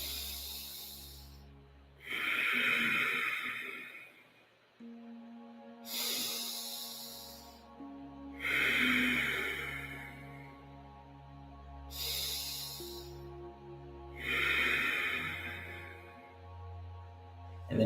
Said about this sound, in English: continue to breathe out through the nose